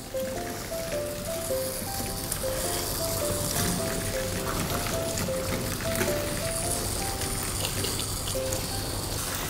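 Water runs steadily from a tap while a puppy is rinsed in a bath, a continuous close gush and splash with a faint tonal whine underneath.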